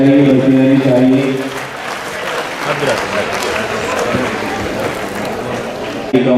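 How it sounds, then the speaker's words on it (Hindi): Audience applause at a religious discourse gathering with a swami, a dense steady clapping that follows a fading harmonic tone and continues loud and sustained throughout. "तालियां आपकी होती रहनी चाहिए, बढ़ती रहनी चाहिए।"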